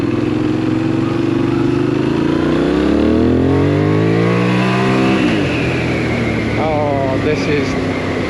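A Benelli 752S naked sports bike's engine revs up in first gear, its pitch climbing and sweeping across several seconds under strong wind rush, with a second brief throttle blip near the end.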